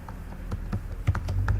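A computer keyboard clogged with dirt is typed on, with soft, uneven keystrokes tapping close by in a steady patter, no voices.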